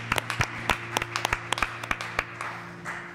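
A church congregation applauds after a Palm Sunday parade, scattered sharp claps rising over a low steady hum for a few seconds, moderately close and fairly sparse rather than a dense ovation.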